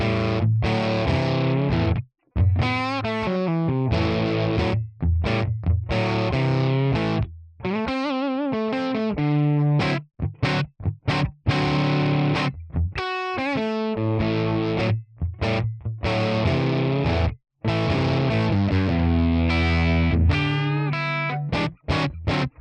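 A Les Paul electric guitar on its bridge pickup plays through a ToneX amp model, giving a thick distorted tone of sustained chords and riffs broken by short pauses, loud and close with no voices.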